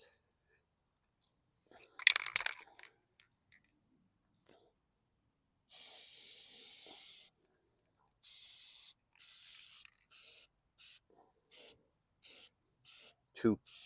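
Short and long hissing bursts of black spray paint from an aerosol can coat a junk lawn mower, with a scrape and a handling clatter early on, then a run of quick sprays near the microphone.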